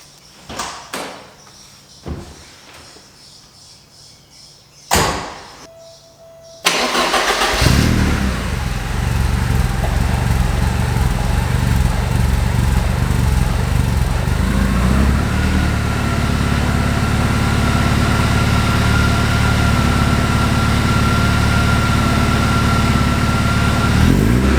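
A Porsche 924S fitted with a Vibrant Ultra Quiet resonator exhaust starts after a few clicks and thumps, then settles into a steady, even, close-up idle drone that holds for the rest of the clip.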